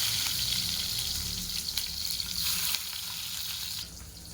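Large-cut onion pieces, added after cumin and a dried chili, sizzling in hot oil in a kadai for kadai paneer, with a bright steady crackle, some stirring scrapes, and the hiss easing slightly near the end.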